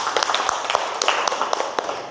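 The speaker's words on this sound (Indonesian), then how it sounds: "Berikan tepuk tangan." A classroom of students claps, fairly close, with a patter of individual hand claps over a few seconds.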